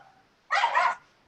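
A dog gives a single close, loud bark lasting about half a second, standing alone against an otherwise quiet background.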